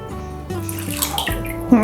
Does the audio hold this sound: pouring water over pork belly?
yes